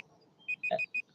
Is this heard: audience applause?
no